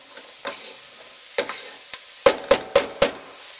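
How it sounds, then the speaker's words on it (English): Vegetables frying in oil for chicken soup being stirred, a steady sizzle broken by a few scattered scrapes, then four quick, loud, evenly spaced knocks of the spoon on the pot. "Give it a good stir."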